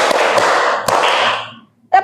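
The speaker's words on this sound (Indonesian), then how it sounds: "Tepuk" A classroom group claps on cue in a few sharp, dense bursts of hand claps lasting about a second and a half, then stops abruptly as a voice begins.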